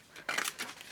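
Scissors cut through paper card for card making, giving two quick close snips in under a second, crisp and alone.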